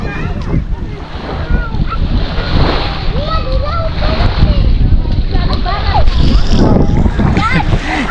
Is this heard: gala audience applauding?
no